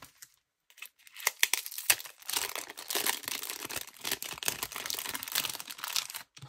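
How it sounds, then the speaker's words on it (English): Packing tape is peeled off a tightly packed parcel with a continuous crinkling, tearing rasp that comes in uneven pulls, close and fairly quiet with no voices. "Let's take this tape off."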